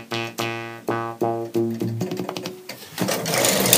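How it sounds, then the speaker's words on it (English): Electronic synthesizer shaped with oscillator waveforms and filters, playing a run of sharp, evenly spaced harmonic notes that give way to a denser, noisier swell toward the end, loud and with no voices. "Synthesizer is any sound, any instrument that creates a sound electronically."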